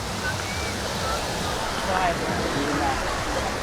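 The Lawasan River in Norzagaray flows with a continuous rushing, gurgling wash close by, and faint voices are present in the background.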